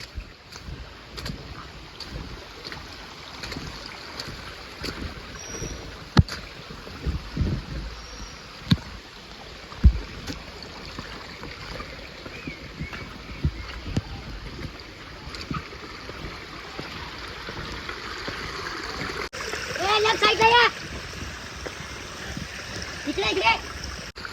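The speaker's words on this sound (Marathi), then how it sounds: "पाणी बघा कसं वाहतंय." A rushing stream on a dense forest trail to Korigad Fort, with steady flowing water, scattered splashes from footsteps wading through it and occasional voices, growing louder toward the end.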